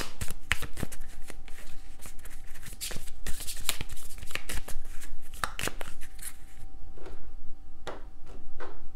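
Tarot cards shuffled rapidly by hand, a dense run of crisp riffling flicks and slaps up close, then a few separate snaps as cards are drawn, with no voice.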